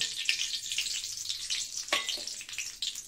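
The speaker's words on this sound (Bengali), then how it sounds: "আগে দিয়ে দেবো হলো এই যে কারি পাতা ফোড়ন দিয়ে দিলাম, আর সর্ষে ফোড়ন, কালো সর্ষে আমি ফোড়নে দিয়ে দিচ্ছি" Curry leaves and black mustard seeds sizzle and spit steadily in hot oil in a home kitchen pan, a close, continuous frying hiss with a few sharper crackles and no talking.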